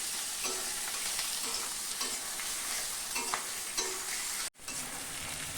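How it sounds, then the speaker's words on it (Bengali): Onion frying in a pan for mutton bhuna, a steady close sizzle with occasional stirring scrapes and one brief break near the end. "তো বন্ধুরা, পেঁয়াজটা না একটু লাল লাল করে একটু সময় করে ভেজে নিতে লাগবে"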